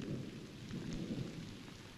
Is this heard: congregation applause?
no